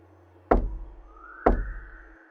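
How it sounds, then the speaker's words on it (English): Two gentle knocks on a door, spaced about a second apart, each a single close, hollow rap with a short decay against near silence. "she raised a fist and tapped gently on the door"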